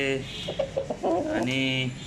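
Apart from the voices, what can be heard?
rooster clucking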